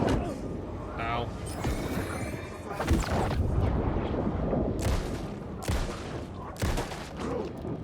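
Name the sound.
shotgun fire in a video game, Alan Wake 2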